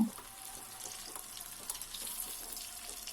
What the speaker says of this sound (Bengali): আমি বেবিকর্ন গুলোকে এবারে উল্টে পাল্টে দুপিঠ লাল করে ভেজে নেব